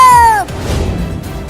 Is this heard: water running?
no